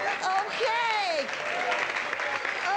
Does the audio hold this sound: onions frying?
no